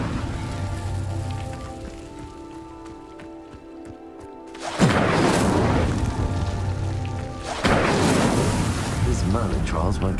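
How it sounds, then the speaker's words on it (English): Incendio fire spell in Hogwarts Legacy igniting pyres, heard as two sudden whooshing roars of flame, the first near the middle and another a few seconds later, over a soft musical background. "Incendio!"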